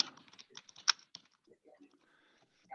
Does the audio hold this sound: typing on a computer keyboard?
yes